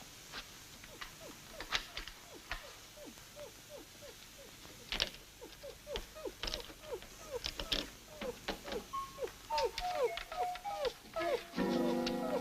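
A dog whimpers in a run of short, rising whines repeating steadily at moderate distance, interrupted by a few sharp knocks, with whines bunching more densely toward the end and a brief rumble at the close; no one talks.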